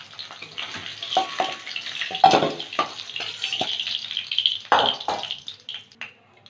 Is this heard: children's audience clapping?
no